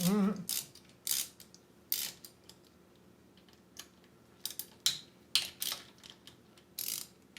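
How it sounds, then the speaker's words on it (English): A 5mm hex key loosening cam cover bolts on a motorcycle, with a run of crisp, close ratcheting clicks and metallic ticks coming in irregular bursts and short pauses between them, no voice heard. "we're going to definitely take these bolts off now. Now with the correct hex. It's a 5mm hex for this one."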